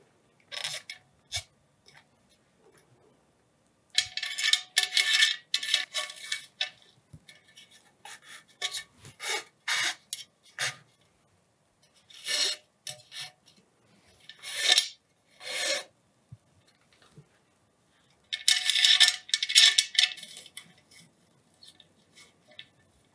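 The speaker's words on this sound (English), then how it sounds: "pre-tighten the laces by turning the tightening element" Tightening element on a laptop holder adapter plate being turned to pre-tighten its laces, giving bursts of raspy ratcheting and rubbing clicks in several separate spells, close and fairly quiet, with no talking.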